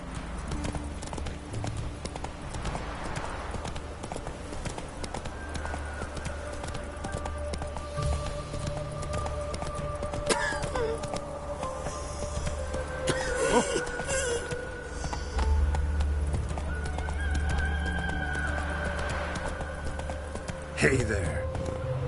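Horse hooves clip-clop steadily through a gallop in The Witcher 3, a continuous rhythmic patter under background music and tonal drones, with voices talking over it at points.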